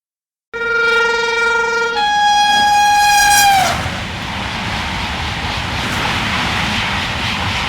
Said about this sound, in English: you've just seen my new CSX GP38-2 crawling along there